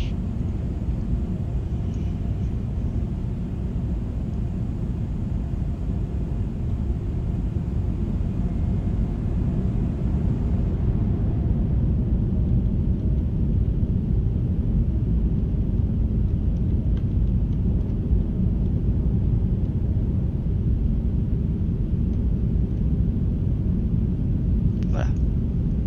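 An Airbus A321neo comes in to land in the Microsoft Flight Simulator game, heard as a steady, loud low engine rumble and airflow roar from the cabin that keeps going to the end, with a brief click near the close.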